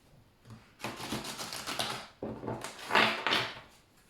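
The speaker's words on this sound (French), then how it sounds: "Moi, j'aime bien mélanger les cartes." A deck of cards being shuffled nearby in two quick riffling bursts with soft flutter and clatter, fairly quiet, no talk.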